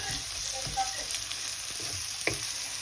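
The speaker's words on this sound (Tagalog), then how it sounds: "Giniling, lagyan natin giniling, gisayin natin." Ground beef sizzling in a pan with garlic and onion for a Filipino giniling dish, a steady close crackling fry with occasional scrapes and clinks of stirring.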